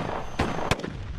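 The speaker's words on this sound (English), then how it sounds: "Go ahead and blow the claymore." A claymore mine detonates during a tactical battle scenario: two sharp broadband blasts about a third of a second apart stand out briefly over steady background noise, moderately loud and close.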